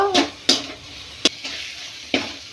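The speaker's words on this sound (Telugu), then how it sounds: "ఇట్లా గెరిట్తో కలుపుకుంటూనే ఉండాలా లేకపోతే అడుగంటిపోతుంది" Gongura leaves frying in oil are stirred with a ladle, giving a few sharp scraping clacks against the pan over a soft sizzle.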